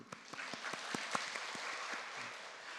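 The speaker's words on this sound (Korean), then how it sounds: "우리 모두에게 박수를" Church congregation applauding during a Sunday worship service at Suwon Dongbu Church; a brief burst of scattered, distinct claps that thickens into steady applause, heard at moderate distance.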